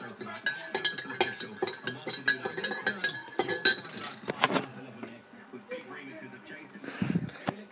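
A spoon stirring tea in a cup, quick bright clinks of metal against ceramic in a steady run, then a softer pause and a final scrape, close and clear.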